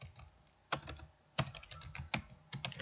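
Faint keystrokes tap out text on a computer keyboard during spreadsheet data entry, arriving as irregular clicks with a few sharper key presses spaced through the clip. No one speaks.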